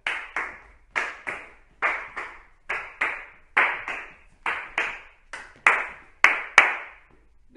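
Hand claps in a gallop rhythm, pairs of quick slaps repeating steadily about once per second, practiced in an early-childhood class; close, crisp and alone with no talking.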